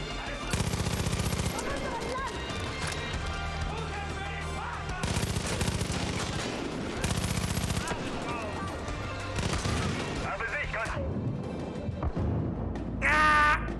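Gunfire in the video game Far Cry 5, with several dense bursts of shots over music and game sounds, ending in a brief high squeal.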